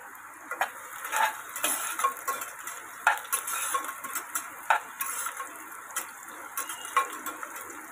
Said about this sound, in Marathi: आता हलवूया